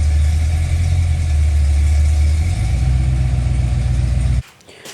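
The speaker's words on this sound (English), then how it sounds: "Big boy motor, Cadillac 500, it sounds phenomenal. I will insert a clip right here and let you hear it." A Chevrolet C10 pickup with a big Cadillac 500 V8 being driven, a deep rumbling engine note that shifts partway through before cutting off abruptly near the end.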